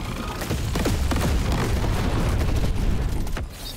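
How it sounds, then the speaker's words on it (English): Dense, continuous explosions and weapon fire from Deep Rock Galactic: Survivor roll on for several seconds, loud and close with rapid overlapping booms and pops, easing slightly near the end before one more sharp burst. "Big explosions!"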